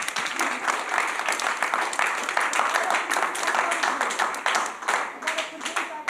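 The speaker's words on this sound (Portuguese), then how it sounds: "Aquele grupo dali ganhou, podem bater palmas" A seminar audience on science communication bursts into applause for a winning group, loose uneven clapping from many hands close by, with some voices mixed in.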